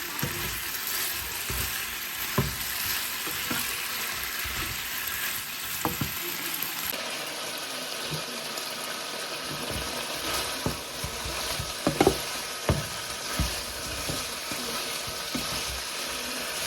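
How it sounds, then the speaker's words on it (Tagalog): Pork adobo fries steadily in hot oil in a pan, a constant close sizzle broken by repeated scraping and stirring clicks over about seventeen seconds, with no talking. "Nag-start na siya mag-mantika. So, kailangan to um, laging, ano, laging hinahalo para magpantay yung brown niya."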